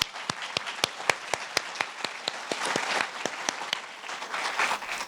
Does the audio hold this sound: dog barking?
no